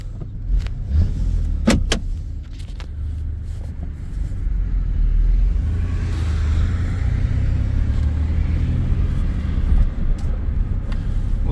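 A 1996 Chevy S10 pickup with a 4.3 V6 and Holley Sniper fuel injection rumbles up under hard acceleration from second gear, its engine note building steadily over the run after a few clicks and thumps at the start.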